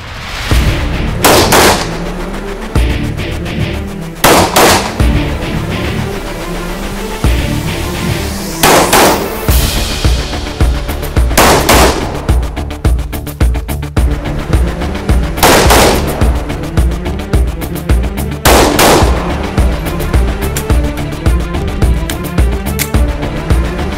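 A special forces shooting drill fills the air with loud, sharp gunshots. Single shots and rapid bursts crack out repeatedly, close up, over a constant rumbling background.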